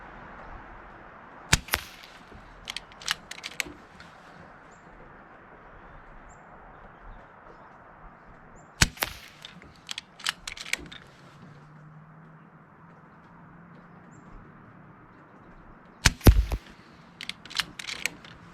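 An Umarex Notos air rifle fires Norma Golden Trophy FT 15.9 grain pellets at a target 30 yards away, three sharp isolated cracks several seconds apart, each trailed by faint clicks and handling noises over a quiet outdoor background.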